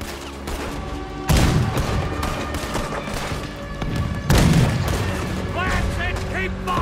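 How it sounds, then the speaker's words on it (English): Cannon fire aimed at a boat in the video game Red Dead Redemption 2, with two heavy booming blasts several seconds apart over continuous rumbling battle noise and game music, with voices heard in the scene. "You made the cannon. I'll get you some more shot."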